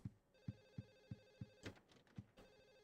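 Telephone ringing in the survival horror game Silent Hill 4, a steady electronic bell repeating in short regular bursts about every third of a second, heard alone with a few other game sounds briefly mixed in.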